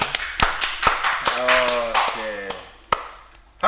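Scattered hand claps from a few people welcoming a podcast guest, sharp separate slaps at an uneven pace with a person talking over them partway through.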